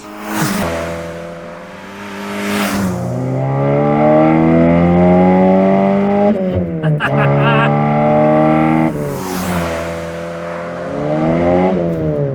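An Opel Kadett GSI engine revs hard and climbs through the gears, with rising and falling pitch sweeps, loud and close throughout.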